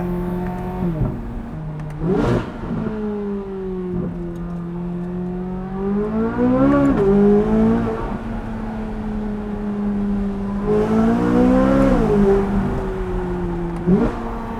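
A new C8 Corvette Z06 accelerates hard from inside the cabin, its loud engine climbing through the revs in long pulls, with quick shift breaks and renewed surges over about fifteen seconds, no talk.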